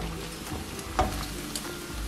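Grated coconut fries in a pan for homemade coconut oil while being stirred, a continuous close sizzle broken by a few scraping stir knocks, with no voices.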